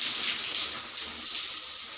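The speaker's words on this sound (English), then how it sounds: "water has come like that" Shower water pours steadily from a home shower head, a continuous broad hiss of spraying water, close and fairly loud, with no talk over it.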